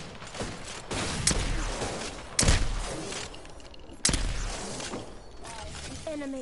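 Sharp gunshots in the video game Apex Legends ring out as a few loud, separate cracks amid steady rattling fire, with a voice speaking now and then in between.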